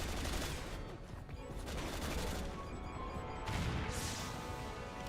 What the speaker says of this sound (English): big old explosion.